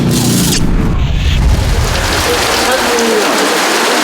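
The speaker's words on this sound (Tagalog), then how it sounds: "masama itong panahon, malakas ang ulan" Heavy rain roars steadily throughout, a dense broadband wash with low rumbling thumps early on; no voices stand out.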